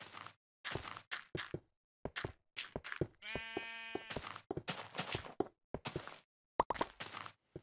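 Sheep bleating in Minecraft Pocket Edition, in a sheep pen during breeding: a series of short, clear bleats in quick irregular succession, with one longer, wavering tonal bleat in the middle and quiet gaps between calls.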